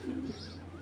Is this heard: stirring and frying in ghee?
no